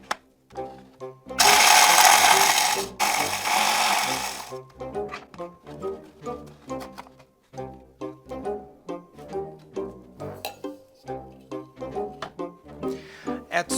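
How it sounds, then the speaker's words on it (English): Graham crackers being crushed for a cheesecake crust, a loud dense crunching burst for a few seconds near the start, then a long run of irregular cracking, tapping and crumbling sounds close by. "First thing first, crack the crackers. We're using graham crackers."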